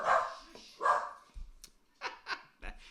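Several dogs barking at home, a series of loud sharp barks and yips in an irregular run, fairly close and with no talking.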